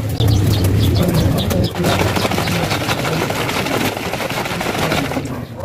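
Racing pigeons in a loft coo with low throaty calls and beat their wings in rapid busy flaps, close and loud, with clattering movement continuing throughout.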